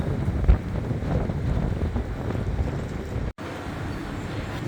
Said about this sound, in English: that's with a strong wind blowing